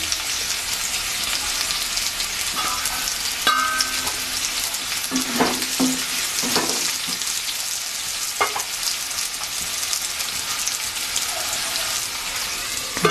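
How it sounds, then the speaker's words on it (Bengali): Potatoes frying in about two spoons of oil in a covered pan, a soft continuous sizzle with a few clinks and stirring scrapes partway through. "এবার ঢাকা দিয়ে আলুটা ভেজে নেব"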